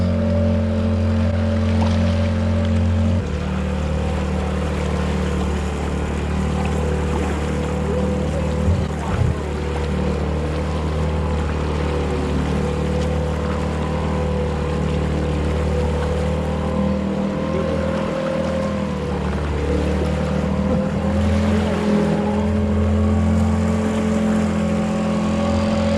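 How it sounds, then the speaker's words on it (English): A motorboat in Alaskan waters crossing a large ship's wake: a loud, steady engine drone with a few thumps and slaps against the hull, and voices faintly under the noise. "We got this ship's wake sneaking up on us."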